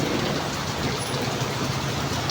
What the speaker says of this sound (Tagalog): Bayan ng Lopez, mga idol, lakas ng ulan.